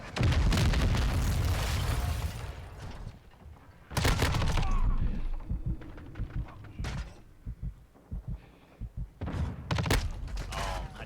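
Close air support strike in Call of Duty: Modern Warfare 2 unleashes heavy booming explosions and crackling blasts in loud clustered waves, with quieter gaps of scattered pops and debris between them.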